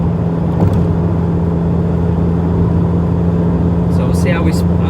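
A 40-year-old Vauxhall Cavalier accelerating in fifth gear on the M1 motorway, heard from inside the cabin as a loud, steady engine drone and road roar that holds constant throughout.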